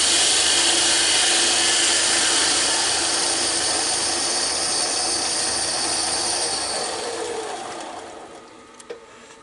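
A wood lathe tool making a couple of light passes to dish the bottom of a turned penguin ornament, producing a loud, continuous scraping hiss that gradually fades out near the end.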